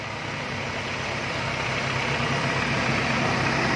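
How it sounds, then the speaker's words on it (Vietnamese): A 2002 Daewoo Lanos car engine idling close up, a smooth, steady hum with even mechanical purr and faint vibration, holding constant and slightly rising in level, with no talking. "Máy nổ thì thầm mùi xuân luôn."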